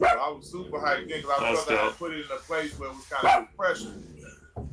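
A dog barks repeatedly in the background, its yips and barks mixed under a man's continuous, animated talking.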